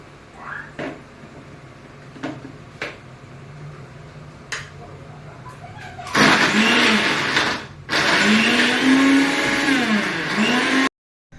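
A kitchen mixer grinder blends taro into paste in a loud, steady whirring burst that cuts out briefly, restarts and stops abruptly, after a few quieter clicks and knocks.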